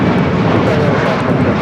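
A Boeing 747 jumbo jet on approach to the south side of LAX gives a loud, steady, broadband engine roar that fills the whole stretch without pause, with no talking.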